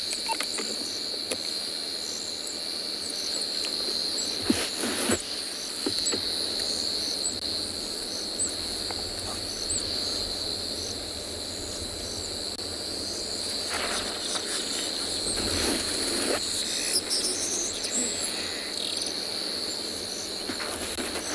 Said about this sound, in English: allow you to hear the crickets,